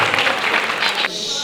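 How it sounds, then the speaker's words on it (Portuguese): Audience applause at a Portuguese 25 de Abril commemoration, a dense, steady wash of many hands clapping that stops abruptly partway through, leaving quieter room noise. "Uma salva de palmas."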